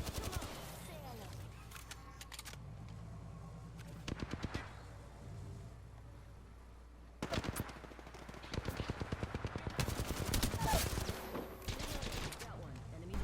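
Rapid automatic gunfire from a laser weapon in the Apex Legends Arenas battle royale game, with bursts of firing separated by short pauses and a long dense volley near the end, under occasional game voice lines.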